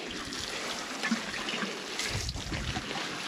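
Water trickles and splashes onto soil in a kitchen garden, a continuous uneven pouring near at hand with no voices.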